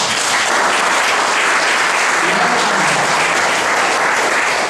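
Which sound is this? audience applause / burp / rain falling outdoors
audience applause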